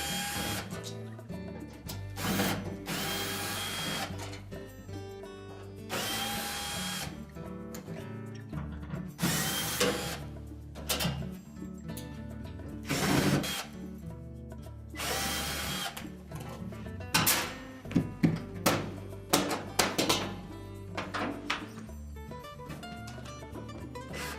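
A power drill removes screws from the back panel of a Whirlpool washer in repeated whirring bursts with short pauses and some metallic clicks, close by and fairly loud, with no talking.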